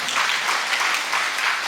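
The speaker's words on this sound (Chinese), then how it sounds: "这么一句不用鼓掌" A short burst of steady, dense audience applause from a lecture hall crowd, many hands clapping at once with no voice over it.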